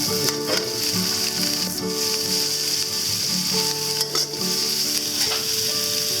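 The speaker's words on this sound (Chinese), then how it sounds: "红萝卜、辣椒下进去，翻炒一下" Carrots and chillies stir-fried in hot oil with fried garlic and spring onion, for Maggi goreng noodles: a loud, steady close-up sizzle with occasional scrapes of stirring, over faint background music.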